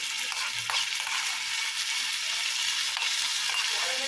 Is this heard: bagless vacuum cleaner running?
no